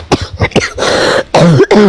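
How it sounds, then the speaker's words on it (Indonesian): A person coughs several times in quick succession, a few sharp bursts followed by a longer rough hacking cough and a throat-clearing sound, close and fairly loud. "Batuk aku."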